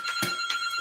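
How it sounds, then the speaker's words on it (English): A home telephone rings with brief bright electronic trills, close and clear, repeating rapidly over a short span with no talk. "That's our phone."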